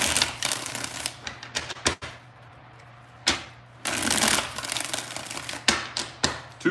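Tarot cards riffled and shuffled by hand in bursts of crisp, papery flutters with brief pauses between, close and fairly loud, with no talking.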